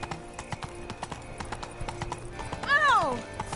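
Horse hooves clip-clopping in a steady rhythm in The Witcher 3, moderately close, ending in a loud rising-and-falling whinny from the horse.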